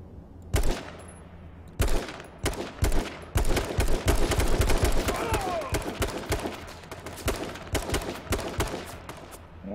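Rapid bursts of automatic gunfire from an H1Z1 King of the Kill battle royale match, loud and close, with repeated sharp volleys and sustained firing throughout, under occasional voice.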